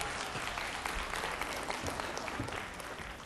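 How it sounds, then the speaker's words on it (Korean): Applause from the audience at an education lecture, a few seconds of dense, even clapping that carries on without any voices. "여러분 박수 한번 쳐주세요."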